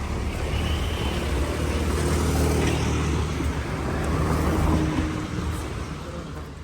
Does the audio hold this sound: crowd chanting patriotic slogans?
no